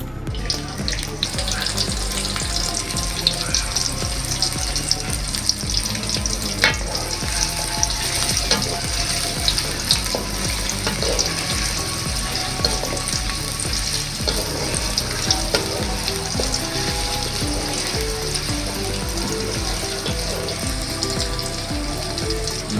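Chopped onion going into hot oil in a pan for a meat khichuri, sizzling and frying steadily and close up, with some water and clattering kitchen noise mixed in.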